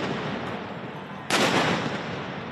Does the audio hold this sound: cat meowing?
no